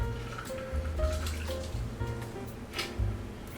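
A Bee's Knees cocktail pours and drips into a glass in short trickling bursts, close and fairly quiet, with faint clinking and no voices.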